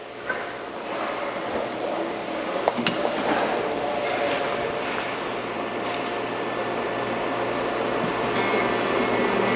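A Cybor 5116 dispense pump pushes out fluid at 15 ml per dispense during a source inspection. It gives off a steady, even mechanical hum and whoosh that runs the whole time, with a few faint clicks near the start.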